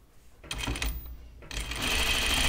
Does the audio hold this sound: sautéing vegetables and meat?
no